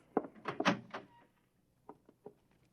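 A door opens onto the front step for the morning paper in an old radio drama, giving a few close wooden knocks and thunks followed by quieter clicks after a pause.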